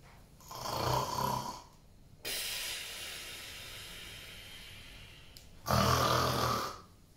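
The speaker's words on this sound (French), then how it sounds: "Quand elle a entendu le ronflage Père Noël" Santa Claus snoring in a Christmas story, three long, loud rasping snores with hissing breaths, each separated by a quieter exhale, close and without speech.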